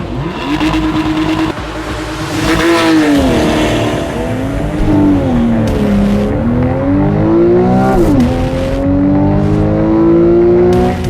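A Porsche with a PDK gearbox launches hard under launch control, its engine rising loudly in pitch through several gear changes, each upshift dropping the note before it climbs again, with no voices over it.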